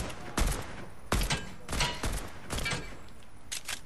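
Bursts of gunfire in the video game Fortnite, four or five sharp loud volleys of rapid shots spaced about a second apart, each with a heavy low thump.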